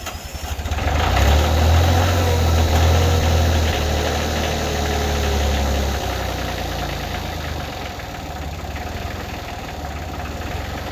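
A truck engine idles while warming up, a loud, steady, close low rumble that swells early and then settles into an even drone for the whole stretch, with no talk over it.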